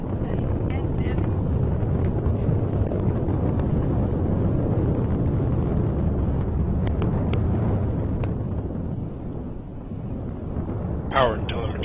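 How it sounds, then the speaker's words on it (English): A SpaceX Falcon 9 rocket lifts off carrying the GRACE-FO satellites: a steady, heavy low roar and rumble with wind buffeting on the microphone, easing slightly toward the end, with faint radio voices. "All right, we have a liftoff"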